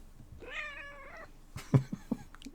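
A cat gives one clear, drawn-out meow up close, followed by a few quieter short knocks and rustles.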